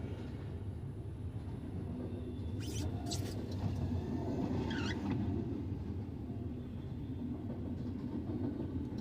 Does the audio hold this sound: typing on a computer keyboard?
no